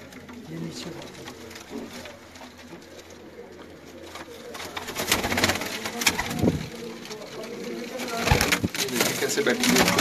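Soft cooing from a mixed flock of pigeons in Wazirabad, Pakistan murmurs in the background alongside voices talking, with some rustling and a few louder knocks toward the end.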